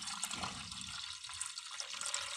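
Water is poured into a fertilizer solution for chrysanthemum plants, giving a faint, steady splashing and trickling stream that runs continuously throughout, with no talking.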